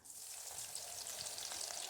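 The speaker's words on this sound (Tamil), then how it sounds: "எண்ணெய் நல்லா சூடானதுக்கப்புறமா நம்ம ரெடி பண்ணி வச்சுருந்த கார்ன் எல்லாத்தையும் போட்டுட்டு நல்லா பொரிச்சு எடுத்துக்கணும்." Hot oil bubbles and sizzles continuously as baby corn deep-fries, a soft, steady crackle with no talking.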